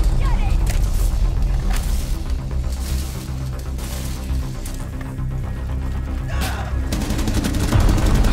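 Gunfire in Rainbow Six Siege, with repeated bursts of shots and booming impacts over a steady, dense battle rumble.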